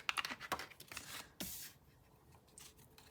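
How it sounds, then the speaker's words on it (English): Tarot cards being shuffled by hand during a card reading, giving soft papery riffles, flicks and scrapes in short irregular bursts, fairly faint and close, with no voices. "as we're shuffling this deck"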